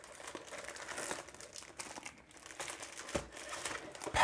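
Packets of paper for a Canon Selphy CP1500 photo printer are handled, giving a steady close crinkling and rustling of wrapping that continues through the clip, with slightly louder crackles near the end.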